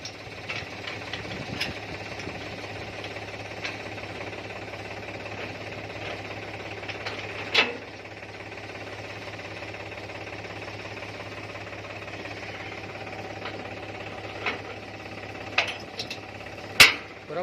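A tractor engine idles steadily in the background at moderate distance while a wheat thresher is being set up, with a few sharp metallic knocks and clanks breaking through the constant low hum.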